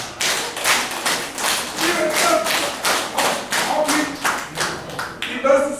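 A church congregation at a Sunday communion service claps hands together in a steady unison rhythm, roughly a dozen even beats filling the room with no talk over them.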